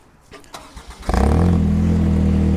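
A Ventrac tractor's engine rises from idle into a steady, loud, close drone as the tractor backs out of a KM500 loader, after some lighter mechanical knocks at the start.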